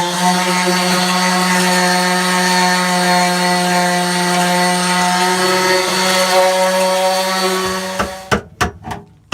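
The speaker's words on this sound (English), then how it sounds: "you need to give it some good sanding" A loud power sander grinds steadily on a car's metal floor panel with a sustained whine, then cuts off and leaves a few sharp knocks at the end.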